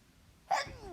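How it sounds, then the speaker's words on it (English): A single quick human sneeze bursts out midway through an otherwise quiet moment, fairly soft and close. "Excuse me, I'm going to sneeze."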